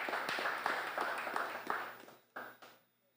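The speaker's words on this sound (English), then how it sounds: "I would like us to give them another round of applause" Audience applause at a national budget community consultation in Saddlers, a dense burst of clapping that swells briefly and then dies away, followed by a couple of scattered final claps.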